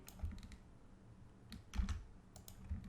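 Quiet, close clicking of keys on a computer keyboard as code is typed, a few short bursts of keystrokes with pauses between.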